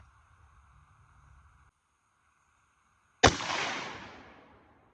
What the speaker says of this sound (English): Now we're gonna do the 100-yard shot.